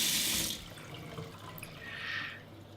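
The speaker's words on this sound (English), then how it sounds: "So cooling them down with cold water." Cold tap water runs over freshly boiled eggs in a kitchen sink to cool them before making Scotch eggs, a faint steady splash with a brief louder gush at the start and another midway.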